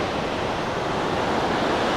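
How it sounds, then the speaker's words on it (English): A spectacular waterfall seen from a valley viewpoint, heard as a dense, unbroken roar of falling water, loud and steady with no voices. "near the beginning here's a spectacular waterfall."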